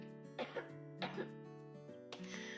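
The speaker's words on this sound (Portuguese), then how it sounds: "já começo tossindo já" Three rough coughs in quick succession, then a throat-clearing burst at the end, close to the listener with no talk.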